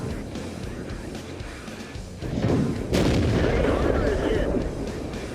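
A tank cannon firing in World of Tanks, a heavy close boom rising out of rumbling engine and battle noise, followed by a sustained roar.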